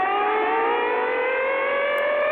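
A heavily distorted air raid siren wails steadily at a high, slowly rising pitch. It sounds loud, harsh and compressed, with a thin, filtered tone.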